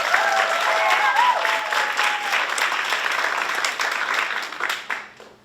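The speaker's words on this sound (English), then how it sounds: "how about another round of applause for Coda on the trumpet?" Audience applause for a trumpet player at a Tri-M music honor society induction ceremony, a steady, dense crowd clapping that runs for several seconds and tapers off at the end, with a faint voice early on.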